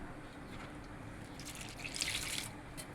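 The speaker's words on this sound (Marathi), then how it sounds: "पाणी घालून" Water running from a tap into a vessel for washing up after mixing dough in a home kitchen, a soft steady splash and trickle that briefly brightens midway, faint and close.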